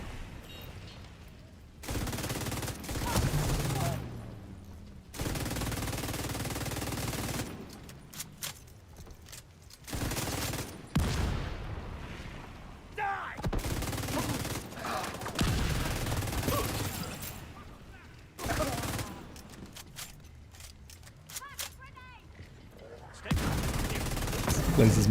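Mortar and gunfire in a PvE shooter video game: repeated bursts of heavy blasts and rattling fire come in loud blocks separated by brief quieter gaps, with voices talking over parts of the action.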